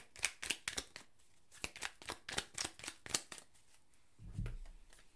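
Tarot cards shuffled by hand, a quick run of crisp riffling slaps and flicks, close and fairly quiet, ending in a soft, low thud as a card is set down; no voices.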